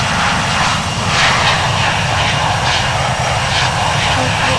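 A loud, constant aircraft engine drone at full takeoff throttle in a flight simulator, a broad roaring rush with a rhythmic pulsing texture, steady throughout.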